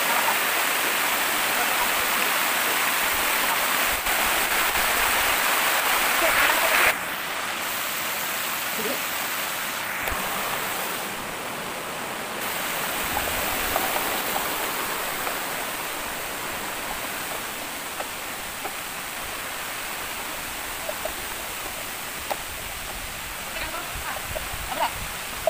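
A hidden waterfall in Diadi, Nueva Vizcaya, roars as a steady broadband rush of falling water, loud and close throughout, slightly quieter after the first seconds, with people talking over it.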